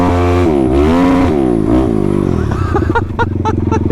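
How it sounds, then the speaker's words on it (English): A rebuilt engine revs hard: a loud, harmonic engine note rises and falls sharply, then breaks into a choppy, popping burble toward the end, with no talking. "It just revs so fast"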